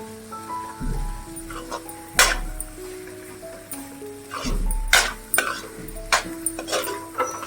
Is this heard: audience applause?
no